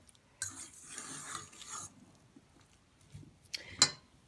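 Chopped green peppers, onions and red peppers are stirred in a bowl, soft scraping and clinking of a utensil in a few short bursts, quiet and close.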